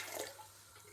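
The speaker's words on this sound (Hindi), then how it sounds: "तो जी भाइयों, हम इसमें 2 गिलास पानी ऐड करेंगे।" Lukewarm water pours into moong dal in a cooking pot, a steady close splashing stream that swells early then settles into a continuous gurgle for about a second.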